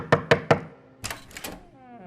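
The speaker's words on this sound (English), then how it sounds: "He gave it another knock and then turned the door handle." Three sharp, evenly spaced knocks strike a wooden door up close, followed by a pause and a few softer, rougher rattles like a door handle being tried.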